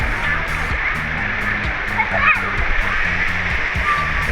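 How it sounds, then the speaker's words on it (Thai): Turtle-shaped fountains at a water park spray water in a steady splashing rush, with voices and children's chatter mixed in over the continuous spray. "มีเต่าพ่นน้ำอยู่5ตัวนะ"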